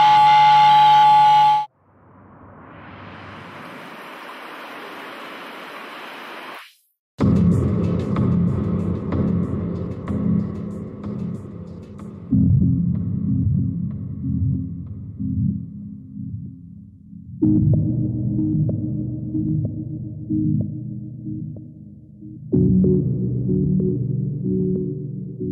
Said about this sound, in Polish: Generuję poprzez wibracje pewnego rodzaju kolaże dźwiękowe.